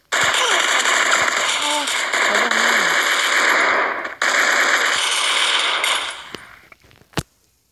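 Rapid automatic gunfire in a video game rattles loudly and almost without a break for several seconds, pauses briefly, resumes, then thins out into a few scattered shots and one final crack.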